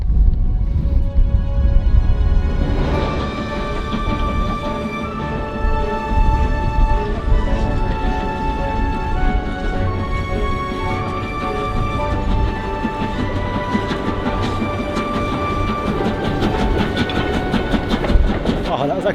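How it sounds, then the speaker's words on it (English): A train crosses a viaduct in the Scottish Highlands with loud, continuous rumbling and rhythmic wheel clatter that swells near the start and stays heavy throughout, watched by a waiting crowd. "Such an amazing view of the viaduct and the train passing"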